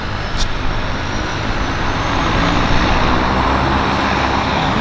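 A floatplane's engine runs up at a downtown harbour airport, a loud, steady broadband roar holding near the listener with traffic murmur blended underneath.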